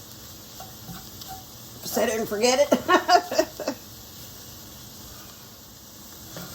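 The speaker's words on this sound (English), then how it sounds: "our flour's been frying for a couple minutes, getting the rawness off of it" Flour fries in a pot while being stirred into a roux for broccoli cheddar soup, a soft sizzle with a burst of scraping stir strokes in the middle, and a voice speaking over it.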